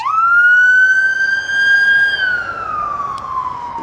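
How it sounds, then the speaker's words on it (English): An ambulance siren wails nearby in a residential Los Angeles area, one long rising then falling sweep, clear and prominent over quiet background. "there's an ambulance coming here"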